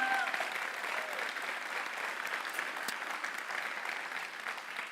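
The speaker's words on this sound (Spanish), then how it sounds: "denle un aplauso al Señor, aquel que esté contento esta mañana" A church congregation applauds in a steady, sustained wash of clapping that fills the room evenly from start to finish, with a few faint voices mixed in.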